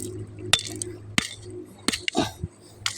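Dacite river stone from the Lukulo river in Kebumen being struck and broken apart, several sharp separate knocks and cracks at uneven intervals, close up, with a low background hum and a brief voice between the hits.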